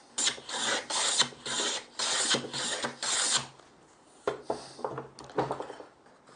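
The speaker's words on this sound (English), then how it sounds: "pop it back in the vise, plane that tongue off" Repeated rasping strokes of a hand plane shaving the tongue off a timber piece held in a vise, rhythmic pushes with short pauses between, close and moderately loud, no talking.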